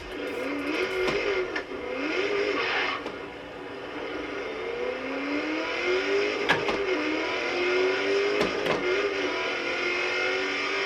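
A 1998 Mach 1 engine revs up and down in a racing game driven with a racing wheel, the pitch climbing and dropping through repeated gear changes, with a few sharp clicks and no talk.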